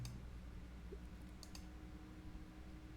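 A few faint clicks from a computer mouse in a quiet room, two or three sharp taps near the middle over a low steady hum.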